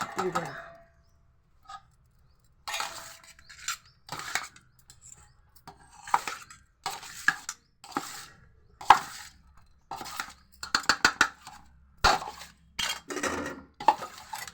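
Food being stirred in a pot on a small gas stove by a mother, with intermittent metallic clinks and scrapes of utensil against pot, close up, interleaved with talking.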